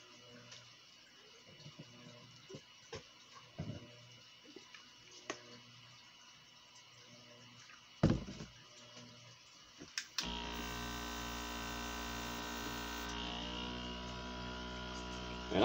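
Airbrush gun being backwashed with water for cleaning between colors: faint clicks and handling noises at first, then a sudden steady hissing spray that holds loud for several seconds before easing to a lower continuous rush.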